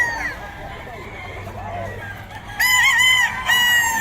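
A pumpkin sweater gamefowl rooster crows loudly and close in the final seconds, after quieter clucking and murmuring voices in a busy setting.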